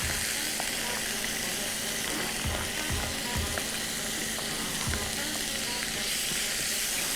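Finely chopped onion and colored bell peppers fry in a pan for a chicken kofta dish, making a dense continuous sizzle close up, with a few soft thuds and scrapes of stirring and no speech.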